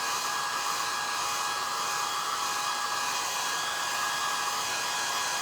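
A hair dryer blows steadily and close up, drying paint on a stenciled sweatshirt, its even whirring hiss running unbroken with no voices.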